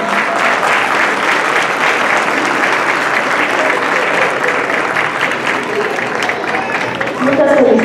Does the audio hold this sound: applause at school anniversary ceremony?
yes